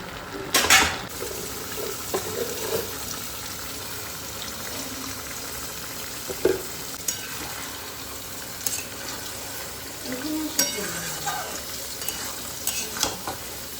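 Food being stirred and fried in a pan at home, with a low sizzle and intermittent scraping and clinking of utensils against the pan, at moderate volume and with no talking.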